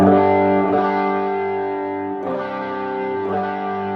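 Electric guitar played quietly through an amp, with overdrive and effects giving sustained, distorted chords that ring out, restruck about every second and a half.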